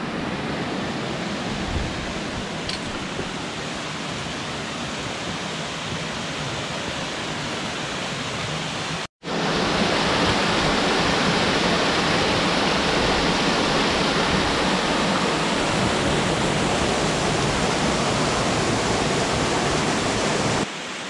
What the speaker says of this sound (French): c'est belle cascade